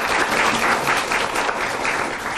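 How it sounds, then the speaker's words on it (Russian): An audience applauds enthusiastically in a university hall, a dense, loud, continuous wash of many hands clapping at close range with no pauses. "под ваши бурные аплодисменты"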